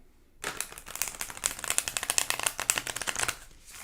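Tarot cards are shuffled close up, a rapid riffling patter of crisp flicks lasting a few seconds before stopping.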